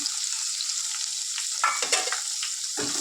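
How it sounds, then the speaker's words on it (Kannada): Garlic frying with cumin and mustard seeds in hot oil, a steady close sizzle with brief stirring scrapes and a louder crackling burst toward the end; no voices. "ಬೆಳ್ಳುಳ್ಳಿ ಸ್ವಲ್ಪ ಕಲರ್ ಚೇಂಜ್ ಆಗೋವರೆಗೂ ಫ್ರೈ ಮಾಡ್ಕೋಬೇಕು."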